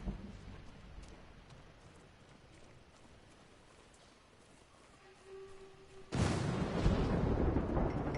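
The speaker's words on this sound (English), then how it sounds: "Well, here's a storm." A thunderstorm in the video game Ghost of Tsushima breaks in suddenly: after quiet, faint ambience, a loud, dense roar of heavy rain and thunder rushes in and holds steady to the end, with no talking.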